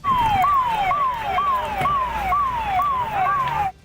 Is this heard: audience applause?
no